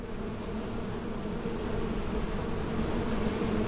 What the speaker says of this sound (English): The closer I get to the beehive, the louder it gets.